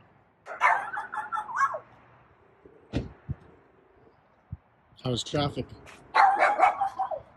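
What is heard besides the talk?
dogs barking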